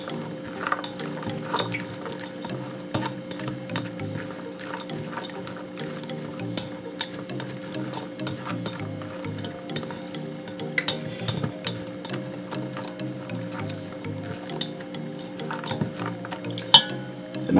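Shredded carrot and raisins are tossed together in a bowl with a spoon, giving soft, irregular squishing and light clinks over a steady quiet hum, close and low in volume.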